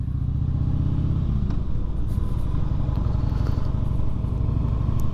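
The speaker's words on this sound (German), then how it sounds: "Jetzt fahre ich ganz langsam, aber hier ist sowieso nur 50." A Harley or Kawasaki motorcycle rolls slowly along a 50 km/h road on a Niederrhein ride-out, its engine a steady low rumble with a gear change early on and constant wind noise over the whole stretch.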